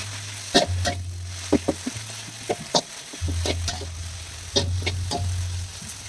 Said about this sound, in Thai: ผัดเส้นให้หอม รสผัดให้มีกลิ่นกระทะ